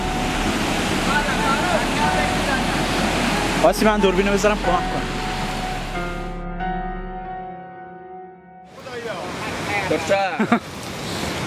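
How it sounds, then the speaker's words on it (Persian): Floodwater surges across farmland with a steady, roaring rush, loud at first and later mixed with someone speaking, briefly thinning before the torrent swells back up. "آب دیگه الان خیلی زیاد شده اینجا، لحظه به لحظه سیل داره بیشتر میشه"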